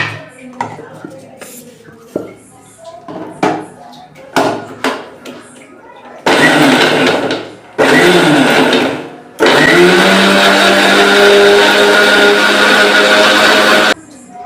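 A kitchen mixer grinder whirs loudly in several bursts as fennel, onion and spices are ground for a kuzhambu, each run starting and stopping abruptly, with clinks and handling knocks between them.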